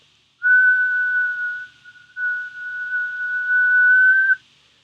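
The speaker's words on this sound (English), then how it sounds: "So if we whistle," A person whistles a single sustained note, clear and loud, held for about two seconds, briefly dipping, then resuming steadily before stopping cleanly in a quiet room.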